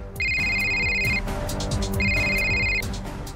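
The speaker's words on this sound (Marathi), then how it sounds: "बघ आला ना कुणाचा तरी फोन." A telephone rings in two bright electronic bursts with a short gap between, steady and fairly loud over a low background hum in an indoor scene from a Marathi TV drama.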